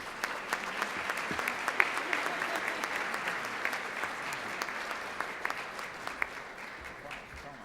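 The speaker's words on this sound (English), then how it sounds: "Please give another round of applause for Judge Munoz" Crowd applause for Judge Munoz at a Hispanic scholarship event, a steady moderate wash of many hands clapping with a few sharper claps standing out, heard from a distance at low level.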